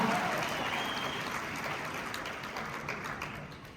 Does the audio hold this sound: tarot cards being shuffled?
no